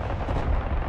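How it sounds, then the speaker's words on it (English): Artillery salvo firing in the video game Broken Arrow: a dense, continuous rumble of heavy booms that blur together, loud and steady for under a second, with no voices. "I'm firing artillery on it now"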